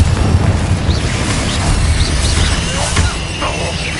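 Repeated Confringo spell blasts in Hogwarts Legacy, dense loud booms and crackling bursts overlapping with battle noise and magical whooshes throughout.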